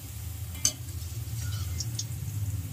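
Butter murukku fry in hot oil with a soft, steady bubbling sizzle close by, broken by one sharp clink early on and a few faint ticks.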